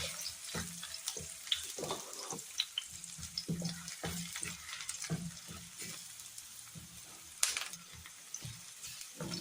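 Garlic fries in a pan over onions, giving a steady crackling sizzle with scattered stirring clatters and spatula knocks throughout.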